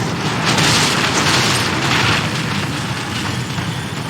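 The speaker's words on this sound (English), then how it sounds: "Let's throw some more Molotov cocktails at him" A Molotov cocktail bursts into fire in the horror video game The Evil Within, giving a loud, sustained roaring whoosh of flames that fills the whole moment with no voices over it.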